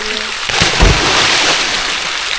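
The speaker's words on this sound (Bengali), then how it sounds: "এইবার একটা ডুব দিতেই হয়।" Water splashes and sloshes as someone dives into a cold swimming pool at a lakeside resort, with a loud splash near the start, then churning water close by.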